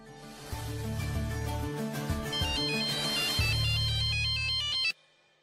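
A mobile phone ringtone plays a bright, repeating electronic melody loudly and steadily for about five seconds, then cuts off abruptly into silence.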